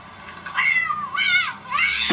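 An angry cat gives three drawn-out, wavering meows in quick succession, loud and close, each rising and falling in pitch like a low caterwaul, with no talk.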